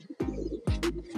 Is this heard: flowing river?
no